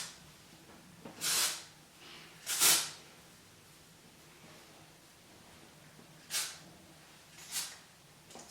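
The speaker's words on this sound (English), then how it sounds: "Spray the bangs a little bit if you want" Four short hissing sprays from a hairspray can, close by, with quiet pauses between them.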